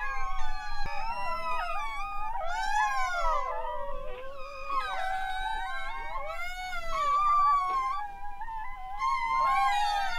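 Newborn Rottweiler puppies from a litter of ten cry together in overlapping high, wavering whines and yelps that rise and fall continuously, close by and fairly clear, with no talking over them.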